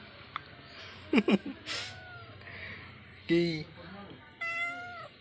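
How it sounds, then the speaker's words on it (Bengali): A cat meows several times, with short, rising and drawn-out calls spaced across the moment, close by, while a person speaks briefly nearby. "এই যে এখন বিড়াল নাটক করছে এখানে"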